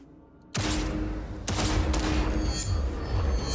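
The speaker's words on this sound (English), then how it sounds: "this pistol's full auto" Full-auto pistol gunfire in Cyberpunk 2077 erupts suddenly in sustained rapid bursts, loud and close, with a second sharp report partway through and a continuous rattle after it.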